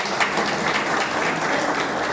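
Audience applause at a community event in Gangakhed: a dense, steady wash of many hands clapping, fairly even in loudness across the whole stretch, with no voices on top.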